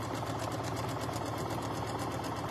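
A sewing machine runs continuously, stitching a seam on a quilt top with a steady, rapid mechanical whir and needle chatter, close up and even in loudness.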